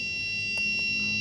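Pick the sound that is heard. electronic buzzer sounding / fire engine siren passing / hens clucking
electronic buzzer sounding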